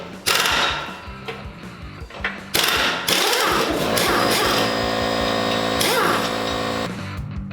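An impact wrench loosens the bolts on a tracking wheel in a busy shop, loud and close, a sustained rattling mechanical hammering with brief pauses and renewed bursts of clattering metal.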